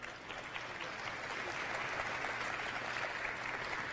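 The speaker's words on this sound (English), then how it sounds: "Big round of applause for them." Steady, dense applause from an audience at the InSight prelaunch briefing, continuous and even throughout with no voices over it.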